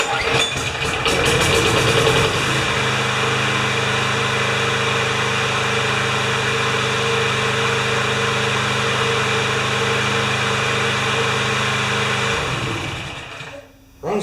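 A 6.5 hp Craftsman lawn mower engine runs loud and close at a steady droning idle for about twelve seconds, then dies away with a brief sputter near the end.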